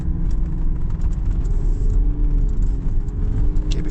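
Land Rover Defender 110 D350 on all-terrain tyres straining on slippery ground, a loud steady low engine rumble and drone with faint ticks and knocks over it, no talk.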